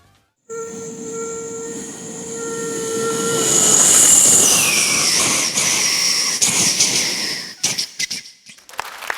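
A performer's voice imitates a fast train rushing past, with a shrill whistle-like hiss that swells loudly, bends downward as it passes, then breaks into clattering bursts before trailing off.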